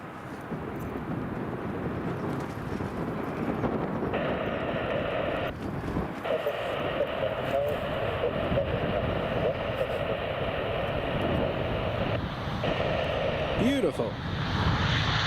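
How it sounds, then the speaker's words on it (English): A Ryanair airliner coming in to land at Edinburgh Airport, a steady broad engine roar with a droning whine that holds throughout, heard outdoors with wind and a voice talking over it. "here's the Ryanair coming in"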